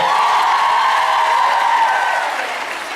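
Dense, steady applause from a large crowd fills the whole stretch, fading slightly toward the end.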